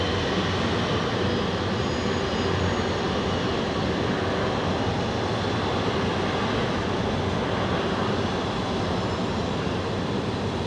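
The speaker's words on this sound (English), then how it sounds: "The Air Canada that you have been looking at, Toronto, rolling now with the 350" Air Canada Airbus A350 rolling for takeoff at Zurich Airport, a broad, steady roar of jet engine noise that stays constant and heavy throughout, heard from a distance.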